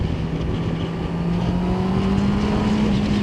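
Honda CB650R E-Clutch motorcycle with an inline-four engine, a loud, steady engine drone whose pitch slowly rises as it pulls, heard close and alone.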